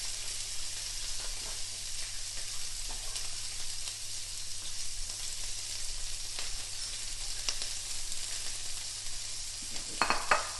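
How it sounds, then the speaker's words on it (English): Steady, hissing sizzle of lamb, peppers and broccoli stir-frying in a wok on full heat, continuous and fairly quiet, with a few faint clinks near the end. "and there's your sizzle."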